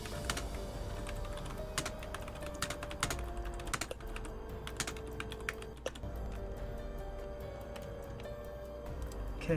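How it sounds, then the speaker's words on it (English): Fast, steady typing on a computer keyboard, dense rapid key clicks running close and clear throughout, with occasional louder keystrokes and no talking. "I'm just really good at typing real fast."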